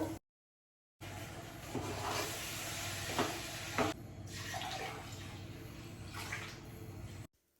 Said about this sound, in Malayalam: ഞാൻ നാല് ഗ്ലാസ് വെള്ളം ഒഴിക്കും